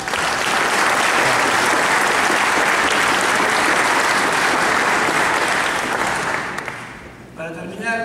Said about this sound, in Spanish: para lo cual también les pido un aplauso